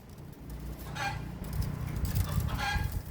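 A hen clucks and cackles after laying an egg, two bursts of loud, near squawking calls over a low rural background hum.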